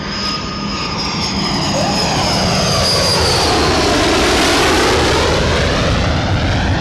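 HAL Kiran jet trainers fly past in formation with undercarriage down at an Indian Air Force anniversary display, a steady loud broadband jet roar that holds strong through the whole stretch with a slight rising whine.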